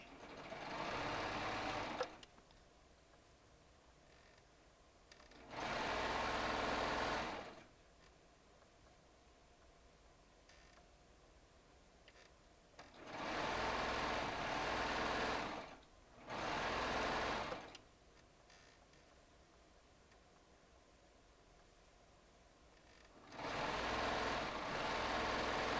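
A Baby Lock serger trims the selvages off fabric in bursts of rapid, loud whirring stitching separated by quiet pauses, five runs in all.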